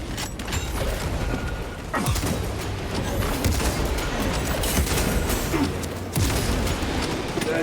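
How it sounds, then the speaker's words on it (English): Sniper rifle shots in the video game Space Marine 2: a couple of heavy, booming reports stand out from a dense, continuous wash of battle noise and mechanical clatter. "we're gonna grab the sniper rifle"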